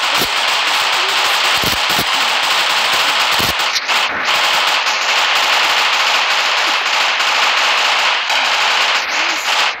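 Dense, continuous automatic gunfire fills a Roblox Superhero Tycoon game battle, loud rapid bursts with no pauses and occasional sharper cracks layered over the steady rattle.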